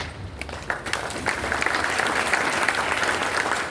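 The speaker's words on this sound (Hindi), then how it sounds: "सर के लिए जोरदार ताली बजा दो" Loud audience applause at a rural innovation talk, starting with scattered claps and quickly swelling into a dense, sustained roar of hands that stays strong to the end.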